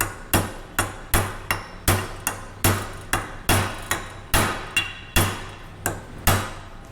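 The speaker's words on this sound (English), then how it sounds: "You can drive this in with a socket, which is preferable. You can tap it around a little bit." A hammer taps a sealed bearing into its press fit on a three-wheeler. About fifteen sharp metallic blows come close and loud in a steady rhythm, each one ringing briefly, with no talk.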